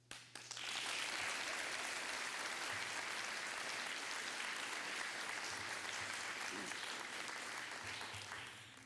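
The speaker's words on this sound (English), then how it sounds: "Give them another round of applause." An audience at an elementary school D.A.R.E. graduation ceremony bursts into applause and keeps clapping steadily, a full room of hands at moderate distance.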